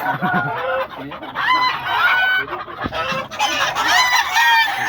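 Several roosters crow one after another, loud and close, with clucking chickens in between.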